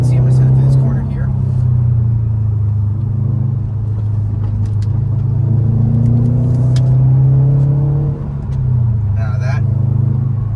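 A 2021 Subaru WRX STI engine drones steadily as the car is pushed through a corner, its low rumble rising and falling in pitch with the throttle throughout.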